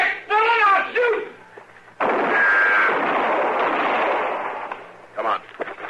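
A loud gunshot blast in an old-time radio western drama erupts at about two seconds and roars for several seconds, with voices heard before and after.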